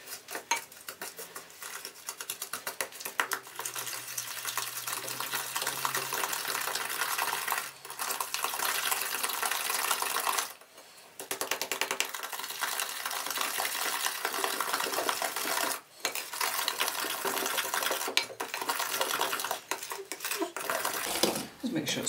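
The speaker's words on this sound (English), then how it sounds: "now stir this together" Banana cake mixture being stirred in a bowl, with continuous scraping and clinking of a utensil against the bowl, nearby and fairly loud, with a few brief pauses.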